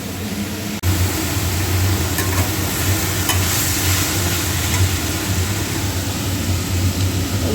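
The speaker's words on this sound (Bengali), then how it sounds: "এখানে হচ্ছে শাক ভাজা" Steady, continuous sizzling of leafy greens frying in a pan, close and fairly loud, with occasional light stirring scrapes and no talking.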